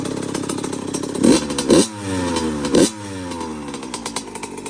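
A Yamaha YZ85 two-stroke dirt bike engine with VForce4R reeds and an FMF pipe with Shorty silencer idles with a crackly rattle and is revved in three quick blips, each rising sharply then falling back.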